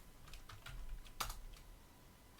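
Quiet keystrokes on a computer keyboard while a Linux command is typed, a scattered run of light clicks with one sharper key press midway, no voices.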